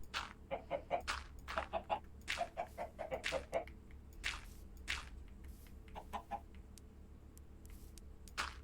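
Chickens in the game Minecraft clucking in short bursts, several quick clucks close together, then sparser calls, fairly near over a quiet background.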